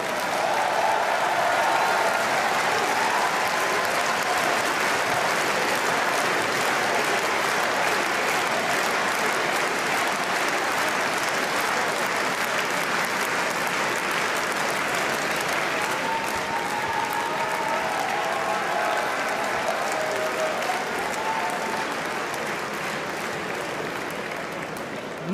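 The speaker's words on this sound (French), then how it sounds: "je vous demande un tonnerre d'applaudissements pour notre candidate" Sustained applause from a large audience at the founding congress of Les Républicains, a dense steady roar of clapping that fills the whole stretch and tapers slightly at the very end.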